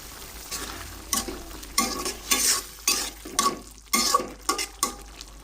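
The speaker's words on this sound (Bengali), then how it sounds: "এদিকটায় রান্না করছি চিংড়ি ভুনা, এবং এখন চিংড়ির মধ্যে আমি ধনেপাতা দিয়ে দিচ্ছি" Prawn bhuna frying in a pan as coriander leaves go in, with steady sizzling broken by repeated bursts of stirring and scraping, close and fairly loud, no voices.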